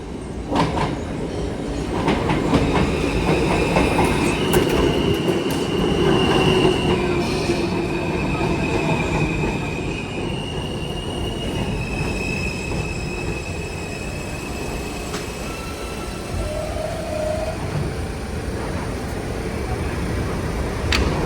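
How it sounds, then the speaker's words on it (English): A New York subway E train pulls into an underground station, its wheels squealing in long, loud, shifting tones over a continuous rumble and clatter of rail cars that fills the whole stretch with almost no talk. "So now folks, we're just going to wait for the E train."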